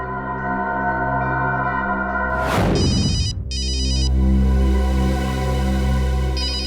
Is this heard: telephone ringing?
yes